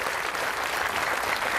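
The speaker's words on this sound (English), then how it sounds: "Please again join me in giving them all a round of applause" At a Memorial Day concert, an audience gives a round of applause with dense, steady clapping all the way through.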